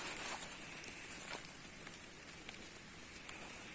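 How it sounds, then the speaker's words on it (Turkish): Steady rain patters on a surface outdoors while chestnut gathering, a soft continuous hiss with scattered sharper drops, heard alone and fairly faint. "bugün şansımıza çok yağmur yağıyor"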